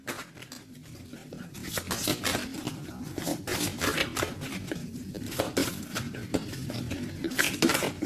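A deck of tarot cards being shuffled by hand, a steady run of soft papery riffles and slaps close by, continuous and fairly quiet with no talk over it.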